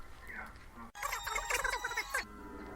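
Telephone ringing in the film The Lawnmower Man, a sudden burst of electronic ringing after a quieter passage with voices, lasting over a second, mixed with the film's soundtrack and heard faintly under commentary.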